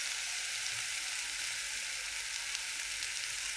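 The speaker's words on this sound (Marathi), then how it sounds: "तेलात चांगलं भाजून घ्यायचं." Masala spices, red chili powder and turmeric, frying in hot oil for a soybean dish, with a steady close sizzle that holds evenly with no speech.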